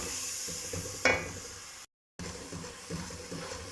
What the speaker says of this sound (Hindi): मैं इसके अंदर एक कुटा हुआ टमाटर शामिल कर दूँ और मसाले को अच्छी तरह भून लूँगी